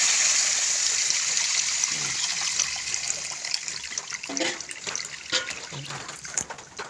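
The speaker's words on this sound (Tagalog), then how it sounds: "ilalagay na natin yung gata." Coconut milk pours into a pan of caramelized sugar, first as a hissing sizzle that gradually gives way to softer liquid trickling and bubbling, close by.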